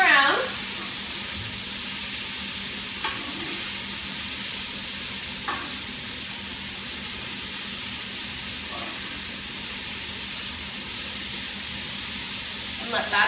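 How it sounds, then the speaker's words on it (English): Steady, loud sizzle of steak searing in a hot Gourmia pan for fajitas, a continuous hiss with occasional faint scrapes. "now that my steak is seared on one side"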